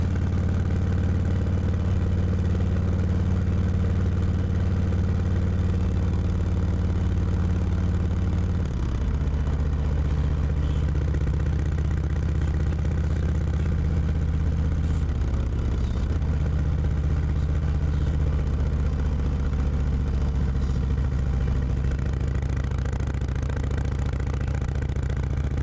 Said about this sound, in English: Riding through here, you can hear the echo of the engine bouncing off the trees.